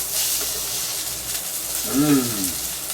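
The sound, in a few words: tofu, egg and mung beans sizzling in oil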